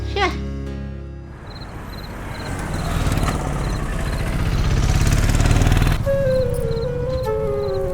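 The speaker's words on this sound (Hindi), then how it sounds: "ए धर्मा, अरे बाइक ले जा यार।" A motorcycle engine runs steadily at close range for several seconds, with a loud mechanical drone that swells slightly midway, under busy film-scene talk and background sounds.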